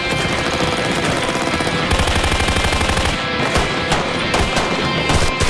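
A machine gun fed with 5.56 rounds fires long, rapid automatic bursts, a loud, close stream of shots with a brief change in rhythm partway through and sharper single cracks near the end.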